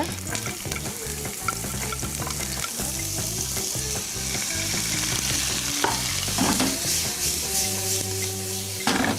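Meat frying in a pan with sesame oil and green onion, a loud continuous sizzle under frequent stirring clanks and scrapes of a utensil against the pan, with no voices.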